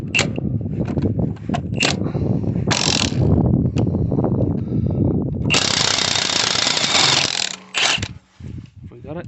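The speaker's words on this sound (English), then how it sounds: "we're going to use our nut gun" An impact nut gun hammers at a mangled locking wheel nut on a Ford, with loud rattling bursts close by and a long sustained run near the end, mixed with clanks.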